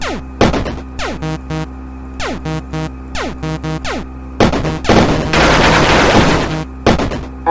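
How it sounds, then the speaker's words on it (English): Missile launches in the video game MechQuest, a string of quick repeated bursts over a steady game soundtrack, building into a dense, noisy roar of fire near the end. "after 3 missiles start launching"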